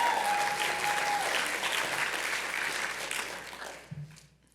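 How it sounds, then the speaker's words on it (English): An audience at a live school talent event applauds, a dense, sustained wash of clapping that carries on for several seconds, then thins and fades out near the end. "so a round of applause for her"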